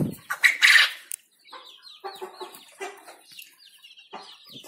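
Hungry farm chickens cluck at feeding time, starting with a loud squawk and a brief rustle of movement, then a close run of chattering clucks and short calls.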